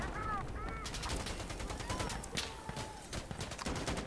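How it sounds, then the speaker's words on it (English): Rapid gunfire and bullets ricocheting in the video game Insurgency: Sandstorm, set among blown-apart desert buildings; sharp shots crack in quick irregular bursts, with whining ricochet tones near the start. "Bullets ricocheting off things."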